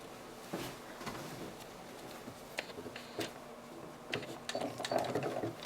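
A sewing machine quilting a laser quilt kit and running the thread back and forth to lock it, giving short mechanical bursts of needle clatter, close and moderate, that grow busier toward the end.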